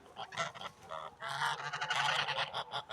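Several geese honk in quick, overlapping bursts nearby, loud and raucous, with a short lull before the calling picks up again.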